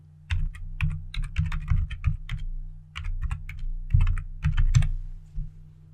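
Typing a title on a computer keyboard, close rapid bursts of key clicks over a low steady hum, with short pauses between runs.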